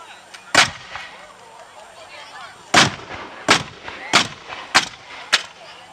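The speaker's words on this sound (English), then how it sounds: "no misfires, and the cannon's off" Blackpowder muskets fire at a historical reenactment, with one sharp crack followed by a ragged series of five loud reports spaced about a second apart, plus faint voices and crowd noise between them.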